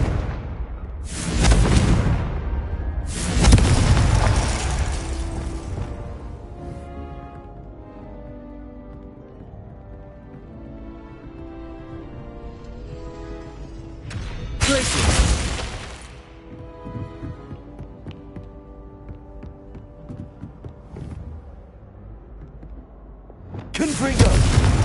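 Booming spell blasts from Confringo in Hogwarts Legacy, several loud broadband bursts spaced across the clip with a musical score running underneath between them.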